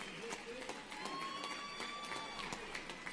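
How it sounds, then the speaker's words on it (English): A fight crowd at a Tachi Palace Fights event applauds and cheers both fighters after a five-round bout, a continuous roar of claps and shouts with a tonal whine running underneath. "let's give a big round of applause for both of these gladiators"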